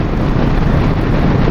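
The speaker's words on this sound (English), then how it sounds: "it's kind of a side headwind, so it's getting extra wind noise from all that" Loud, constant wind buffeting roars across a motorcycle microphone at about 65 mph in a side headwind, a dense broadband rush with no speech.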